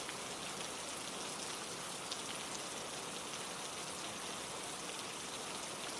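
Steady rain falls in a dense, even hiss of droplets on a surface, continuous and close with no other sounds and no voices.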